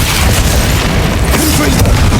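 A Confringo blasting-spell explosion in the video game Hogwarts Legacy, a loud, sustained booming rumble that fills the whole moment with no pause.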